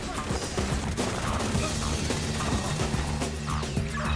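Gunfire in The Division 2, a dense, continuous barrage of shots and impacts filling the whole stretch, loud and busy with no pauses.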